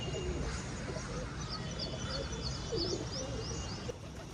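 A flock of domestic pigeons released from their coop, with soft cooing and light bird calls against a steady outdoor background noise, moderately distant and fairly faint.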